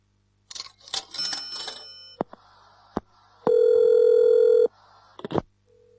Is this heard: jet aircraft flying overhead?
no